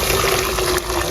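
Water pours or runs steadily into a cooking pot during home cooking, making a continuous close splashing rush with a faint steady tone beneath, alone with no talk.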